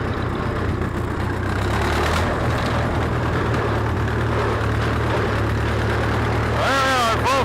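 A 1938 Farmall F20 tractor engine labors up a hill, a loud, steady low chugging drone that runs throughout, with a brief rising whine near the end.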